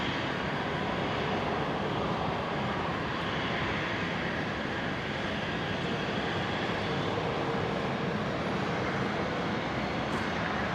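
A Rex Saab turboprop coming in to land at Brisbane airport on runway 19 left gives off a steady, broad engine roar that holds at an even loudness throughout with no voices.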